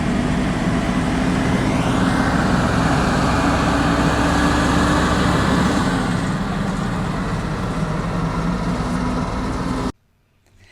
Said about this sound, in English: This is one of our famous road trains.